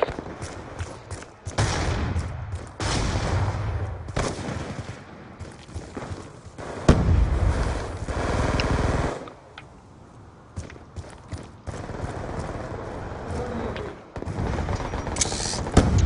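Call of Duty Black Ops 2 gunfire in online multiplayer, with repeated bursts of rapid shots and booms separated by quieter stretches of footsteps.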